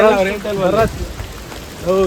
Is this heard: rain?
yes